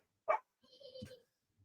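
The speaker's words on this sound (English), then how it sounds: "The dogs are fighting outside." Dogs fighting outdoors: one sharp bark, then a short burst of snarling and scuffling, all at a moderate distance with no voices.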